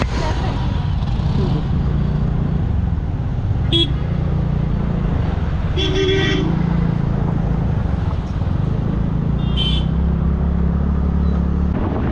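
Road traffic near Manali hums steadily from nearby engines, broken by a few short car horn toots, with occasional voices in the background.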